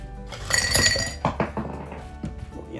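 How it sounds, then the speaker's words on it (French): Ice cubes clink and knock into a tumbler glass for a cocktail, a bright cluster of close glassy chinks followed by a few scattered lighter taps. "on va d'abord commencer avec nos glaçons"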